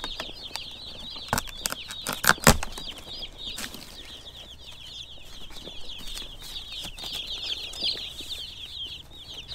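Baby chicks in a protected brooder cheep in steady high chirps that run across the whole stretch, with several close bursts of wing flapping and fluttering partway through.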